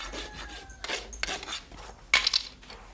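A farrier's rasp files down the nail heads on a horse's hoof: several short scraping strokes, close and moderately loud, with a bright metallic clink near the end.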